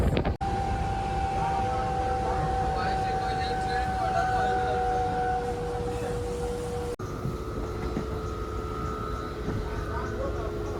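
A Mumbai local train pulls into Vashi station with a loud, steady rumble and a sustained high whine of wheels and brakes. The sound stays close and continuous, and a sharp jolt cuts in partway through.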